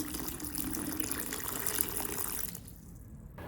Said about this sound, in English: Then pours in water and lets them sit in a light salt bath for a while.